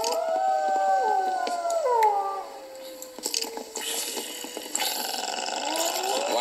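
Wolf howls from the Fairly OddParents: Breakin' Da Rules video game, several long wavering howls overlapping at first, then game sound effects and a brief growl-like burst, fairly loud throughout.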